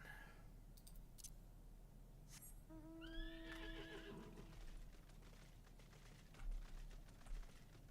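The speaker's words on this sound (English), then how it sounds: "Riding my horse." A horse whinnies once and its hooves clip-clop in a quiet rhythm during a ride in Final Fantasy 14, faint and game-like over soft background ambience.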